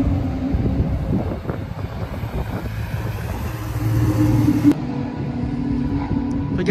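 An Alpine A110R with carbon bonnet, roof and wheels drives past, a rumbling engine building in loudness before a brief sharp cutoff, then steady low drone continues; no talk over it.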